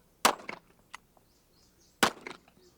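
Two sharp rifle shots on a shooting range during soldiers' marksmanship practice, about two seconds apart, each followed by a short clattering echo, with no talking.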